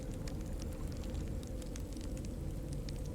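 Steady crackling and popping of a fireplace inside a No Man's Sky base, a constant dense hiss of small snaps with a low rumbling bed, fairly quiet and even throughout with no voices.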